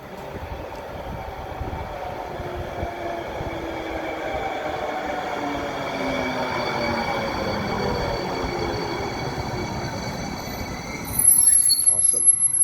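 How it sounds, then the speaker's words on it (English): A commuter train to Hoboken Terminal rumbles along at the 34th Street stop, a steady rolling drone laced with rising and falling wheel squeals, then a sharp, louder burst of metallic noise at the very end. "I'm glad there's a train."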